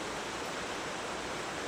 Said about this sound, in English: The combined waters of the rivers Lee and Stort flow through here at 4 cubic metres per second